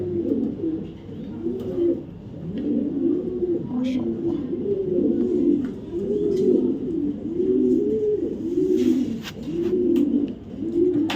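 Racing pigeons coo continuously in a loft, a dense overlapping chorus of low rolling coos repeating in steady waves, close and fairly loud, with occasional small knocks and rustles.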